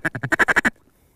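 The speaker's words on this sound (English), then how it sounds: "Ducks, ducks coming in." Rapid run of about eight loud, close quacks in a quick even rhythm during a waterfowl hunt, ending abruptly into quiet.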